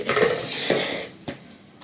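A metal spoon clinks against a deep bowl in a few bright, close strikes, with brief scraping between the taps.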